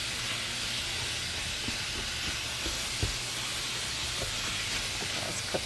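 Ground meat with taco seasoning frying in a pan gives a steady, close sizzle with a broad hiss, broken by a few soft clicks and light stirring. No one talks.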